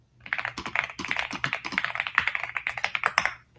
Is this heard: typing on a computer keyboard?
yes